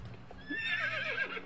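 A dragon horse in the game Star Stable Online gives a clear whinnying neigh, rising and wavering for about a second over faint background game sounds.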